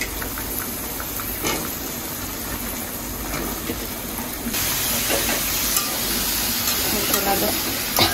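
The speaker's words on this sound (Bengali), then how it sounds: "মশলা কষানো শেষ, দিয়ে দিচ্ছি সবজিগুলো, আলু, পটল।" Cubed potatoes and pointed gourd tossed into spices frying in a pan, a soft continuous sizzle and hiss under scraping stirs, growing a little louder partway through as the vegetables go in.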